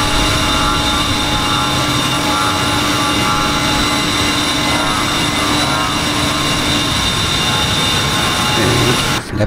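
An A-10C jet taking off in the DCS flight simulator game, a loud continuous engine roar with steady whining tones holding throughout, with no voices.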